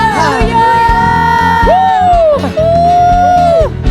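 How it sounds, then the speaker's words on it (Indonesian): A church congregation at a night worship service shouts and cheers hallelujah, with loud overlapping whoops and long sliding yells rising above the crowd noise. "Sama-sama sorakan haleluya"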